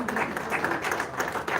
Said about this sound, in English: One more time, a round of applause, please.